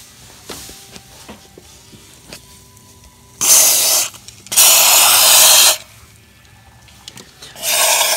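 Three loud bursts of aerosol carbon cleaner sprayed into the intake valves of a BMW N54 engine, each lasting about a second, separated by quiet pauses with faint tinkering in the background.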